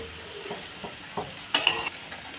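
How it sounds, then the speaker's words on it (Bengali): Tomatoes being stir-fried in a pan for a chicken dish: a low sizzle with a few soft scrapes, then a brief louder burst of clattering stirring near the end. "টমেটোটা এর সঙ্গে নেড়ে নেড়ে ভেজে নেব"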